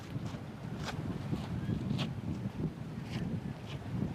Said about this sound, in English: You probably can hear all the wind that's going on right now.